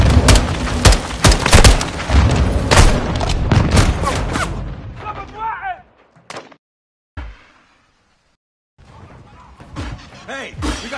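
Grenade explosions and combat in Call of Duty Modern Warfare 2: a dense run of loud booming blasts and sharp cracks that thin into scattered thuds, then drop to near silence broken by a few fainter bursts.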